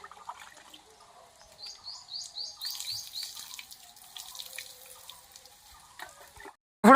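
Water splashes and trickles steadily while a cow is bathed outdoors in a cold month, a faint dripping, gurgling wash with a few bird calls in the background and no talking.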